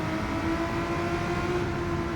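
Volkswagen VGT car in the Gran Turismo racing video game: an even, sustained engine whir with a steady tone and no talking.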